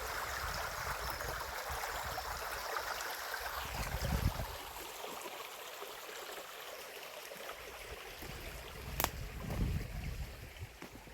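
Running water flows steadily beside a country lane, a continuous broadband rush that stays alone at a fairly even level, with a faint thump and a brief sharp sound near the end.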